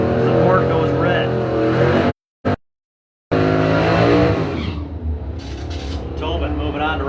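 Drag racing trucks, a Ford against a 2002 Duramax, roar down the strip in a loud, sustained engine blast that cuts out briefly and then returns, with an announcer talking over the racing.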